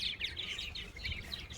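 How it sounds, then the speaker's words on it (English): Purple martins at an active nesting colony with young birds fledging, giving a continuous flurry of overlapping chirps and calls over a low outdoor rumble, fairly faint and distant. "there's my martin colony, which is quite active because all the young birds are starting to fledge"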